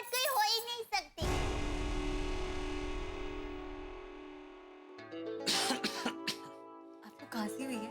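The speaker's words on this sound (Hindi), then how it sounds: "आपको खांसी हुई है?" A person coughs sharply once, followed by a long sustained ringing tone, then a few more short vocal bursts.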